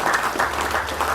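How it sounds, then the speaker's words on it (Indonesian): Brief burst of steady crowd applause in a hall, many hands clapping together at an even, moderate level. "Tepuk tangan untuk beliau."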